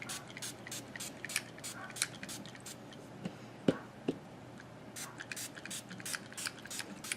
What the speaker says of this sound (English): And then you want to spray it a little more.